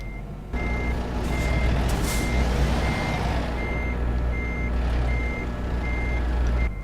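A truck in American Truck Simulator backs toward a trailer, its reversing alarm beeping in an even repeating rhythm over a loud, steady diesel rumble, with a short hiss of air partway through and no voices.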